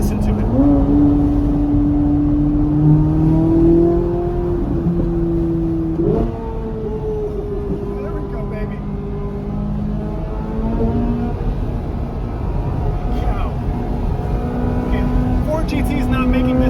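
A supercar engine in manual mode climbs through the gears toward about 8,000 RPM, a loud rising howl with stepped pitch jumps at each shift, heard from inside the cabin with people talking under it.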